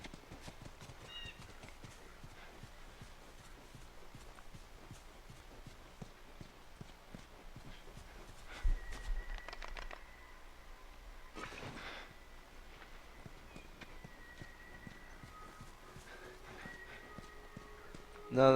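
Horse hooves clip-clop in The Last of Us video game, a soft steady run of light knocks at walking pace. A whinny and other game sounds break in partway, with some talk alongside.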